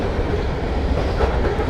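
A very long freight train rolls past close by, a loud continuous rumble of wheels and rail cars with no talking over it.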